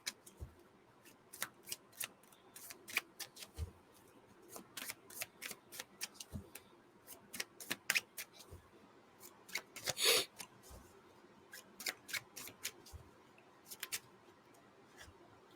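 Tarot cards being shuffled and snapped in rapid irregular bursts of crisp riffling clicks, close and fairly quiet, with one longer dense flurry in the middle and no talking.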